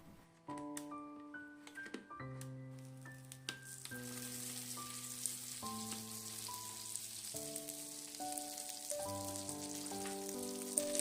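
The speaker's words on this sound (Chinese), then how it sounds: "盖上盖子，继续烙上1分钟，中间要勤翻面，使其收热均匀。" Zucchini pancakes pan-fry under a lid, giving a steady soft sizzling hiss that grows fuller partway through, under a gentle melodic music track.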